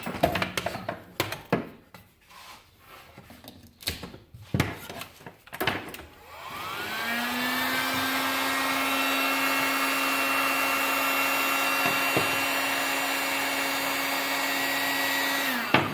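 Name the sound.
heat gun running to remove pattern from wood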